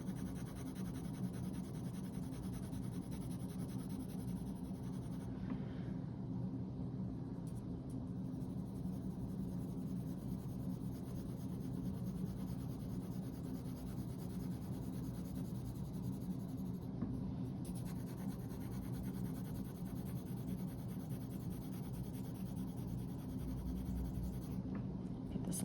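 A pencil shades on paper with a long, continuous soft scratching and rubbing that holds a steady level throughout, close and quiet.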